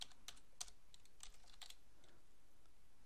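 Quick bursts of computer keyboard typing as a web address is entered, a few separate clusters of crisp key clicks, close and fairly quiet, with no talking.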